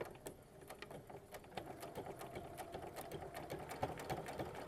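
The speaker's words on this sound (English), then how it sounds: "we're going to keep stitching until we hit the first half of that seam allowance" A domestic sewing machine stitches quilt block fabric pieces together along a seam, a fast steady mechanical whir with rapid needle ticks, close and continuous throughout with no pauses.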